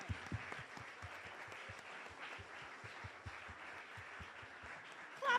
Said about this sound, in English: Look at somebody now and clap them.